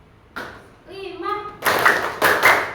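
A classroom group chanting a count, then breaking into two loud bursts of rhythmic unison clapping near the end, close and dense.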